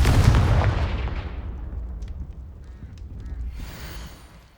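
A Confringo spell blast in Hogwarts Legacy bursts loudly at the start and rumbles away into a decaying boom, followed by faint honking creature calls.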